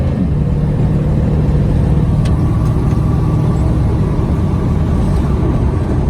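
Continuous rumbling exhaust of a 1931 Plymouth P4 street rod's engine under acceleration through the gears, heard from inside, steady and loud throughout.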